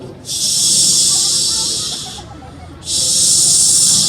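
A voice makes two long, steady hissing streams in imitation of urination, separated by a brief pause, loud and close.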